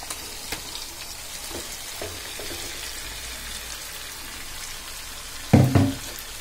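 Fish pieces are dropped one by one into frying masala with tomato, over a soft, steady sizzle with scattered small pops. A louder, brief burst of frying comes near the end, and no one speaks.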